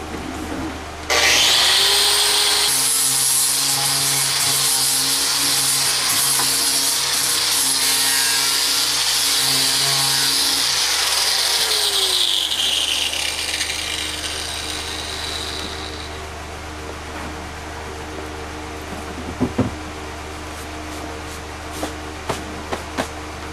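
A power sander works the wood core of a hovercraft thrust propeller, a loud whirring grind that starts suddenly, holds for about fifteen seconds, then winds down, followed by a few light knocks.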